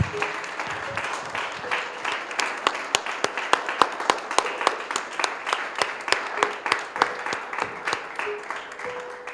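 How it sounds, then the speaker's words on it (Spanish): Church congregation applauding with strong, steady rhythmic clapping throughout, many hands beating in near unison with a dense crowd clapping texture underneath. "Dele un aplauso a nuestro Señor Jesucristo."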